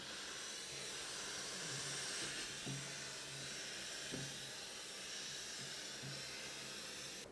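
Steady broad hiss of steam from a Lelit PS 21 steam generator iron, continuous and even for several seconds with a few faint low clicks beneath, no voices.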